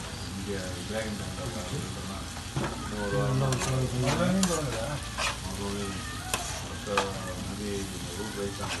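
Dried prawns frying with sautéed onions in a pan, giving a steady, close sizzle with repeated stirring and scraping, and a voice faintly audible beneath.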